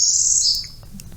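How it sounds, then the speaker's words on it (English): A warbler sings a fast, high trill that rises and then drops away, bright and close, followed by a few faint scattered chirps and then quiet. "So this is a bird with a distinctive fast trill that rises up and drops down."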